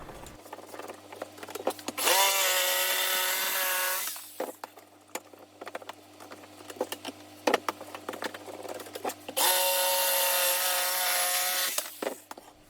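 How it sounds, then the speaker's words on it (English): A Bosch jigsaw cuts a handle and a curve into a live-edge wooden charcuterie board clamped to a workbench. Two loud, close buzzing passes of about two seconds each are separated by quieter handling knocks and clatter. "got my Bosch jigsaw out and clamped my piece to my workbench, started cutting out the handle as well as the curve along the bottom"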